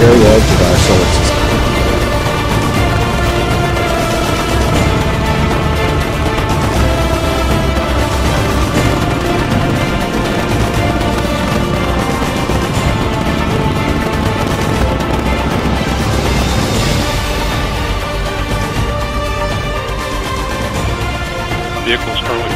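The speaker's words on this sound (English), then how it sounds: "the five solid rocket strap-on boosters are burning just fine" An Atlas V rocket with five solid rocket strap-on boosters lifts off carrying the New Horizons spacecraft, producing a loud, continuous, crackling roar that holds steady for the whole stretch.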